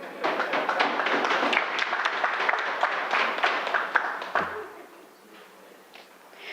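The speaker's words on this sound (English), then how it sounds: "Yeah, I thought that needed a clap" Members of parliament applaud during a national budget debate, a burst of clapping from many hands lasting about four seconds before it quickly dies away into near quiet.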